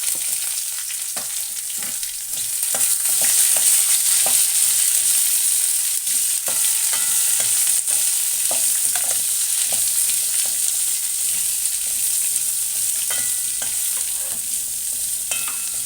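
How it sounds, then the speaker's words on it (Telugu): Chopped onions, tomatoes and garlic frying in a pan for onion chutney, a steady loud sizzle throughout with occasional stirring clicks and scrapes, no voices. "కట్ చేసుకున్న ఉల్లిపాయ ముక్కలు వేసుకొని దోరగా వేయించుకోవాలి."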